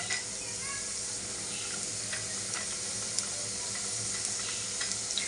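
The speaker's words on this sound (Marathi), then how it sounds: "तेल थोडं तापलं की आपण कांदा टाकूया फोडणीला" Onions frying in hot oil give a steady, close sizzle, sprinkled with small crackles and pops; no one speaks.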